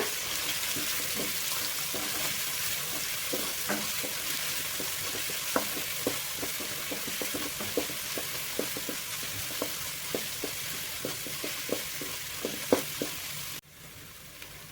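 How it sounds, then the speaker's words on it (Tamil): Ginger garlic paste sautés in a pan with a continuous close sizzle, punctuated by light scrapes and ticks of stirring, before cutting off abruptly near the end. "இப்போ நம்ம எடுத்து வச்சிருக்கிற இஞ்சி பூண்டு பேஸ்ட் வந்து நம்ம போட்டுக்கலாம்."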